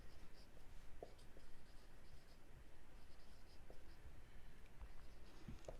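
Pen or chalk writing out an equation by hand during a maths lesson, faint continuous scratching strokes with small taps, close and quiet with no talk.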